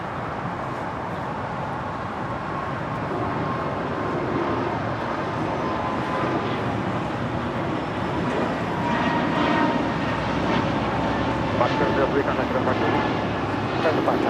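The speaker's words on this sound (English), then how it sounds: "This is Breeze Airways Flight 703 returning back to Richmond, Virginia on the A220-300." A Breeze Airways Airbus A220-300 departing LAX for Richmond, Virginia, a moderate rumbling engine roar that slowly builds over the seconds, with people talking throughout.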